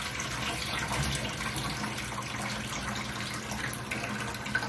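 Hot water is poured and agitated for washing in a rural sugar syrup process, a steady rushing, splashing wash of water that continues at an even level throughout.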